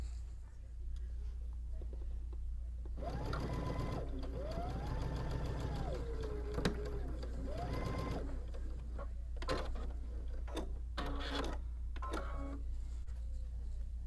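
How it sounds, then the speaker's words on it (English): A sewing machine runs close by in several bursts, whirring and rattling rhythmically as it stitches a quarter-inch seam on quilt binding, with pauses and soft handling noises between stitching runs. "we're just going to go to the sewing machine and sew at 1/4 inch."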